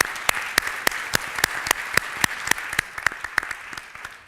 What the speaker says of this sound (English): give a round of applause to this great panel